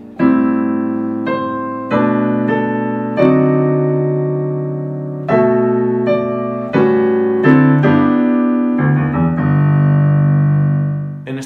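Solo piano playing a section of Jingle Bells as clear, sustained chords and melody notes in a steady rhythm, loud and close with no talking.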